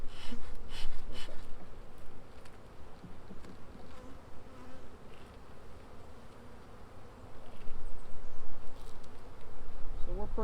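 Honeybees at a hive buzz steadily after a puff of smoke, a dense agitated drone swelling louder toward the end, with occasional close passes and a brief voice in the background.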